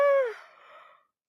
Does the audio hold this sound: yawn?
yes